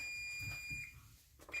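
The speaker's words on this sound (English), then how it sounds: "That was my timer." A kitchen timer alarm goes off while chocolate chip cookies are baked, a faint high electronic beep tone held briefly and then sounding again near the end, low in level against quiet room noise.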